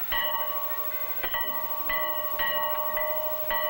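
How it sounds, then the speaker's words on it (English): A farmhouse dinner bell rings with clear, repeated metallic clangs at an uneven rhythm, each tone sustaining and overlapping the next, moderately close. "When the dinner bell rings, no one has to call the girls twice."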